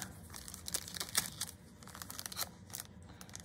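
Magic: The Gathering card packs being torn open, crisp crinkling and tearing of foil wrappers in quick uneven bursts, close and fairly quiet.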